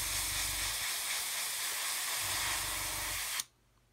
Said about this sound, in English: So spraying the wheel on an angle, that makes sure we get all the way around the sides of that centre cap.